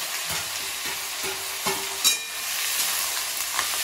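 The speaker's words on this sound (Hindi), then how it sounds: "इधर हमारा गरम हो गया है, हाँ, तेल इसमें डालेंगे" Hot oil sizzling in a home kitchen pan, a steady close hiss with faint scraping stirs and no talk.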